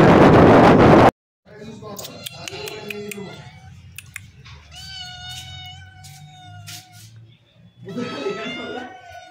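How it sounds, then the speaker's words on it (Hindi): A house cat meows repeatedly at close range after a loud blast of wind noise, its drawn-out cries rising and falling between quieter pauses, with a person talking in the background. "ये देख सकते हैं ये घर का अपना बिल्ली है"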